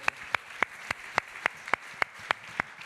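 Steady, evenly spaced claps at an evening awards event as the third-placed brand, Foondever, and Anisha are applauded on the podium. The sharp claps are close, about eleven in under three seconds, over a faint room murmur.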